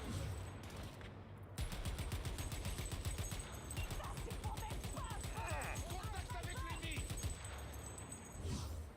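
Sniper and automatic gunfire in the Cyberpunk 2077 video game, dense rapid volleys of shots crackling throughout with scattered impacts, fairly faint and continuous, with a voice briefly heard.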